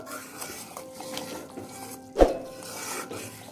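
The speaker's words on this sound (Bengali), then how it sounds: "এই দুধের সর কিন্তু অবিরাম নেড়ে যেতে হবে, না নাড়লে নিচে লেগে যেতে পারে" A spoon scrapes steadily around a pan as milk cream is stirred nonstop to make homemade ghee, soft rhythmic scraping with one sharper clink of metal against the pan.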